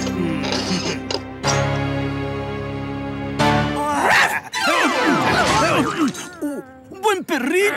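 A cartoonish dog barking in a Spanish-language Lazy Town children's TV episode, yips and bow-wows mixed among music, crashes and bright animated sound effects, with voices talking over much of it.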